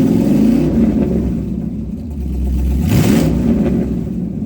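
A twin turbo car engine tuned with MicroSquirt engine management revs close by, rising in pitch, dropping back, then climbing again in a loud, continuous roar with no talking.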